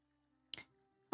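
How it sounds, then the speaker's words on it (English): Water in a shower inside an Elder Scrolls Online player house, heard as two soft, separate dripping plops against a quiet, steady low hum. "you hear the water softly drizzling away"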